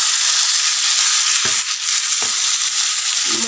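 Marinated mutton pieces frying in a pan for an Assamese-style curry, a dense continuous sizzle with a couple of stirring knocks.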